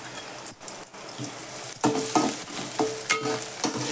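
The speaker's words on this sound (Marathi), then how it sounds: "कढीपत्ता घातला आलं लसूण घातलं" Curry leaves, ginger and garlic sizzle and crackle in a hot pan while being stirred, with sharp bursts of spattering and occasional metallic clinks close by.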